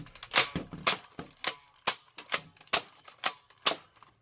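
A Razorbeast toy foam blaster fitted with a K26 spring, firing about a dozen sharp clacking shots in a steady rapid rhythm, close and crisp with short pauses between.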